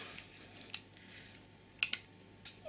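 A few small button presses on a camera's interval timer, faint sharp clicks spaced irregularly over a low background hiss.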